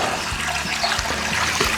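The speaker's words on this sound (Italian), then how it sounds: "Allora ragazzi, partiamo a riempire la piscina." Water gushing steadily into a backyard swimming pool, a dense continuous rushing and splashing with small bubbling bursts, close and fairly loud, with no voices.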